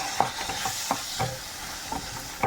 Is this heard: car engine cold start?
no